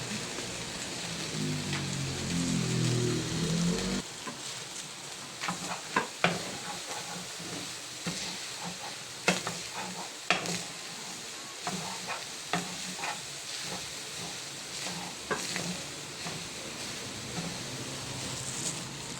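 Onion and garlic sizzle in a hot pan for an eggplant omelette with ground meat, starting with a dense steady crackle, then turning to a drier, spotty spatter with sharp clicks of stirring.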